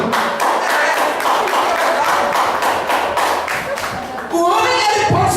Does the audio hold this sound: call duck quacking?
no